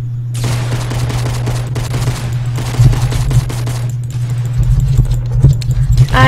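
Rapid bursts of gunfire from the Fortnite video game fill the clip, with dense automatic fire and scattered louder shots running continuously under a steady low game hum.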